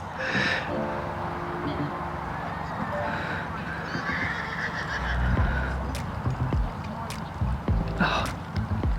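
A horse being ridden over a jumping course whinnies and moves about amid a busy outdoor setting, hoof sounds and other noises mixed in, while people talk nearby.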